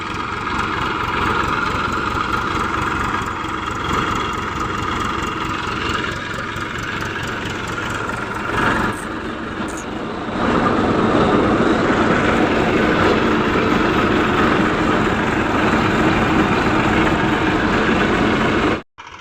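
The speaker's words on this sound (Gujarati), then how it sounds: "જો ફાઇનલ થ્રેસર આવી ગયું છે ગણેશની થ્રેસર તો ટ્રેક્ટર" A Ganesh-brand threshing machine driven by a tractor, set up for a pigeon pea harvest, runs with a steady, loud mechanical drone and roar, briefly dipping midway before growing rougher and then cutting off abruptly.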